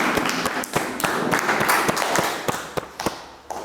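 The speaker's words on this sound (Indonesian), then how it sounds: "Kita beri aplaus bersama-sama." A classroom audience applauds after a student group finishes its presentation: a dense, steady wash of clapping that thins toward the end into a few scattered, separate claps.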